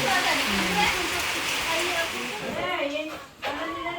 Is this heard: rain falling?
yes